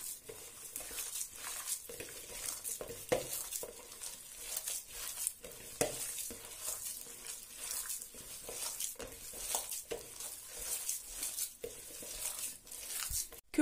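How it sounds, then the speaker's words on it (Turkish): Ground meat being kneaded by hand for İzmir köfte, soft wet squelching and slapping pats in an irregular rhythm, close and quiet, continuing for more than ten seconds with no talking. "Köftemizi iyice yoğurdum."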